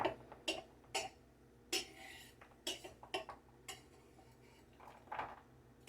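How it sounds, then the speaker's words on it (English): Chopped onion being scraped into a bowl, with several sharp knocks and clinks of a utensil against dishware in an irregular series, close and fairly quiet, no talking. "I'm going to go ahead and put it in this bowl"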